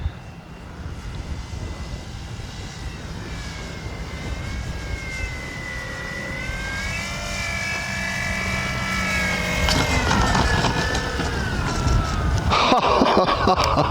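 A Flex RV-8 60E G2 radio-controlled airplane flies by with its electric motor and propeller whining in shifting pitch, growing louder as it comes in to land.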